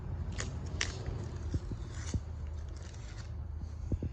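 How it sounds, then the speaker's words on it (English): Masking tape ripped off a freshly black-painted brake rotor during a disc brake swap on a 1964 Plymouth Fury, giving several short tearing and crackling pulls close by. "Rip this tape off."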